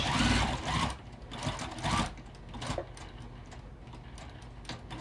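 A sewing machine stitches a quilted bag in short bursts, starting and stopping with loud runs in the first two seconds, then quieter, steadier stitching near at hand with no talk.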